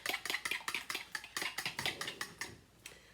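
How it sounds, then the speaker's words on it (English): Eggs are whisked in a bowl for fresh pasta dough, a quick, rhythmic series of close metallic taps and clinks, about four strokes per second, fading near the end. "So whisk those together until they're combined."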